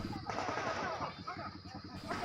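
Police fire warning shots into the air to break up an angry crowd in Papua: rapid cracks in quick bursts, heard at a distance beneath crowd noise and voices.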